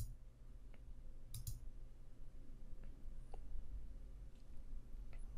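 Mouse clicks while logging into a ReadyNAS network storage system and opening the Milestone Arcus app: a few sparse, faint, sharp clicks spaced over several seconds against low background hum, with no talking.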